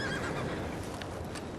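A horse neighs in Red Dead Redemption 2: one loud, close whinny at the start that fades into a steady outdoor game ambience, with no talking.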